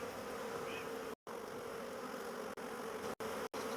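A honeybee swarm buzzing in the open as bees fly around searching for their queen, a dense steady drone close by, broken by a few brief dropouts, with no talk.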